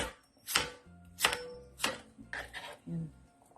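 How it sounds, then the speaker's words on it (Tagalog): Knife chopping sweet potato into small pieces on a board, five or six distinct crisp strikes in an uneven rhythm, close and fairly loud. "ato na lang maning kagmayon yung atong pagkat sa atong kamuti para dali maluto"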